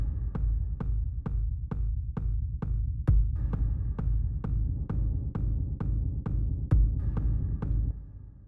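Deep pulsing techno synth bass rumble, made in Cubase, repeating in a steady rhythm, about two throbs per second, loud and low with no voices.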